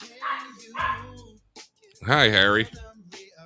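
Harry the dog gives a few short barks and then a longer, whining yelp nearby, with a person saying a word partway through.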